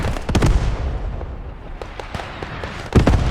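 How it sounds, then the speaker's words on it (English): German mortar shells explode in the Post Scriptum video game, loud booming blasts with several sharp impacts and rumbling tails, a heavy burst at the start and another near the end. "These are defensive mortars, German mortars, I presume"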